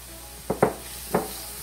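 Tofu going into a pan for ginger pasta with zucchini, with three short, separate scraping bursts over a quiet steady sizzle.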